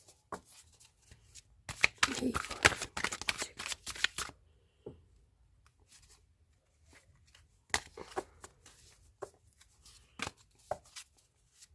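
Tarot cards from a new deck being shuffled, a burst of dense riffling and flicking near the start followed by scattered crisp card snaps and taps, with quiet gaps between them.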